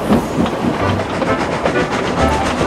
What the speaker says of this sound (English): the whole train was moving and Edward was moving smoothly